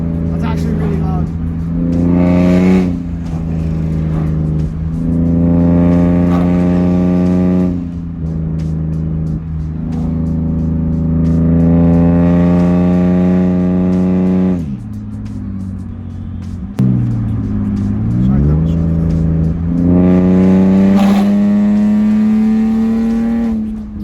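A BMW E46 330i/325i with an M54 engine, catless eBay headers and a straight-piped exhaust revs loudly and close, rising and falling through several long pulls with a shifting raspy tone, while a voice talks over it.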